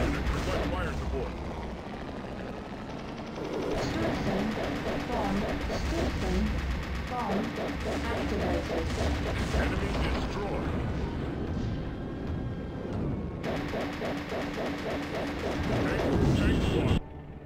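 Artillery fire support in the game Urban Assault, a dense stretch of repeated booming blasts and rapid gunfire mixed with loud engine rumble and battle noise, with speech heard over it.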